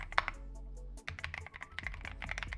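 Keys are typed on a Q6 Ultra 8K full metal body, dual gasket mechanical keyboard, giving a quick run of close, crisp clacks with a brief pause midway.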